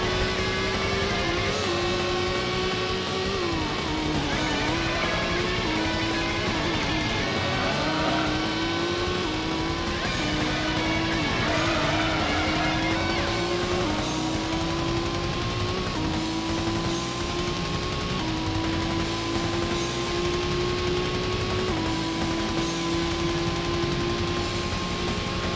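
A Dodge Viper race car in Gran Turismo roars on and off the throttle, its engine note climbing and dropping through the gears with a steady hiss of tire and road noise and no talking.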